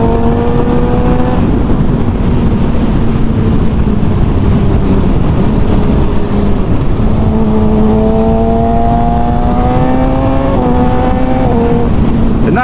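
Suzuki GSX-R K7 Isle of Man TT special motorcycle engine at quarter throttle: a loud, close, steady engine tone with the pitch rising and falling in gentle revs, never reaching high revs.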